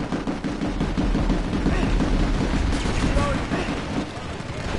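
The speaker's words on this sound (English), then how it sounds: "There's too much gunfire!" Heavy, dense gunfire rattles without a break in the online shooter Planetside 2, with overlapping automatic bursts and booms forming a loud, continuous roar.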